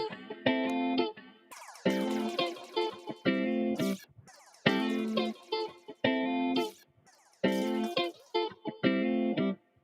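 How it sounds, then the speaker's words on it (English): A bright, bubbly synth-like melody repeats in short bursts, each phrase followed by echoing repeats that trail off, with no voices. "I can add delay to it."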